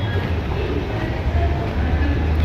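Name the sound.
train passing below at Charni Road railway station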